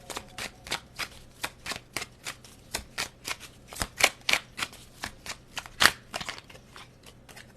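Tarot cards being shuffled, a brisk series of riffling flicks in a regular rhythm with a few sharper snaps, close and fairly quiet, no talk.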